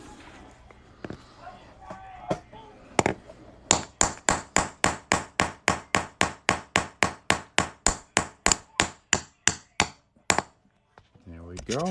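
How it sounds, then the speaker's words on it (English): A plastic or nylon hammer taps a coin ring in a long, fast, even run of about two dozen sharp, close strikes, preceded by a few scattered taps and some background talk. "So I recommend using a like a plastic or nylon hammer."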